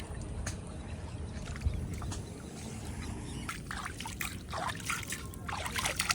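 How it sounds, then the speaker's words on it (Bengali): Water pours out of a rain-swollen pond in steady trickling and gurgling flow, close by and constant, with scattered splashes and light rain patter over a low rumble. "এখান থেকে দেখুন কিরকম পরিমাণে জল বেরিয়ে যাচ্ছে"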